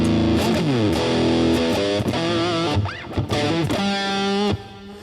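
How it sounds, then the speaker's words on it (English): Heavily distorted electric guitar through a Seymour Duncan FOOZ fuzz pedal, fuzzy and saturated, playing sliding notes and short bursts with abrupt cuts between phrases, loud and close. "let's turn the FOOZ pedal on if we dare"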